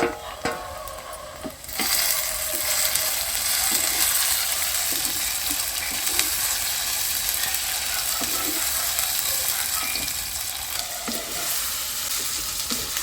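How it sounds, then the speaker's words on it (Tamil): Onions and tomatoes sauté in a pan for a village-style cumin curry, giving a loud, continuous hiss and crackle of frying with scattered stirring clicks and no talk. "வெங்காயம் ஓரளவுக்கு நல்லா வதங்கிடுச்சு தக்காளி சேர்த்து வதக்கலாம்"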